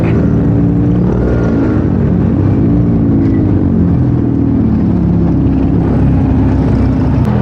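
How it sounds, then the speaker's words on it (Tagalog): Dense road traffic at a busy crossing, a steady loud rumble of idling and moving engines with low droning tones throughout, no voices. "Ubod ang traffic."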